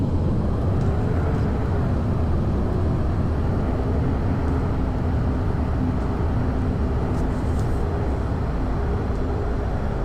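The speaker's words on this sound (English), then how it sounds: "Reverse thrust." An Airbus airliner in X-Plane 11 roaring with reverse thrust just after touchdown, a loud, sustained engine rumble and rush that holds steady throughout, with no voices.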